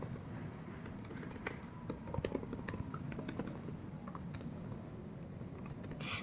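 Fingers type quickly on a computer keyboard, a quiet, irregular stream of light key clicks with a few brief pauses, heard alone and close by.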